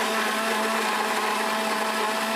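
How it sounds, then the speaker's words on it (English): A blender whirs at high speed, blending ingredients for plant-based cheese: a loud, steady, continuous motor drone, close and alone. "You can switch it on for me. Blend."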